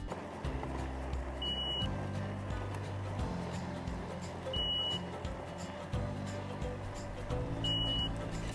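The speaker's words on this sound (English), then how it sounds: "You hear that awful beeping?" Three short electronic beeps from an electric bike's pedestrian warning beeper at a steady interval of about three seconds, fairly faint, over a constant low rumble of riding and road noise.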